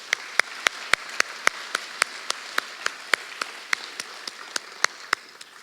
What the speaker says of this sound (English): please give a round of applause for our tabulators and our judges this evening